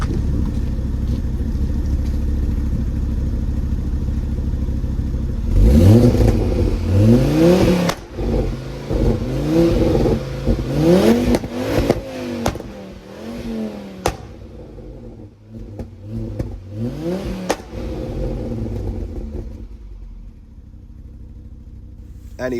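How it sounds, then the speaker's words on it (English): Ford Focus engine with a warped block, running with no power: a low, rough idle that rises into repeated revving bursts, loud and close, with harmonic sweeps climbing and falling. "Unfortunately the engine's shot. I think it's got a warped block. However, it still runs, just no power."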